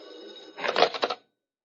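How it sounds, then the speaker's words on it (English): A telephone bell rings once in a short, bright burst of rapid metallic trills, clear and fairly close, in a 1940s radio comedy detective scene. "Suddenly the phone rings."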